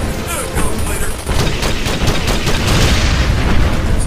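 An enemy gunner firing in the video game Ghost Recon Advanced Warfighter: loud, close, unbroken automatic fire with booming impacts mixed in, steady throughout.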